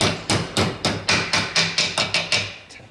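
A hammer strikes a metal bracket clamped in a vise, made for a Jeep JL Wrangler license plate mount: about ten sharp, evenly spaced metallic taps, close and loud, with no talking.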